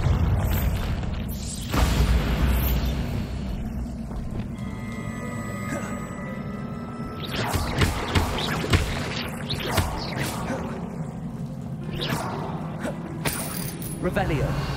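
A Confringo fire spell bursts in a video game with a few booming explosive blasts, the loudest hits spaced several seconds apart, over ambient game sound and a talking voice.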